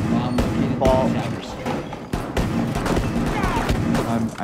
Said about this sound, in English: watch this headshot